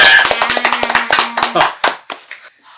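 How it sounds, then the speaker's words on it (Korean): Church congregation applauding a sermon remark, a burst of fast hand claps that thins out and fades over a few seconds, with a low hum underneath and scattered voices. "박수 한번 쳐주다"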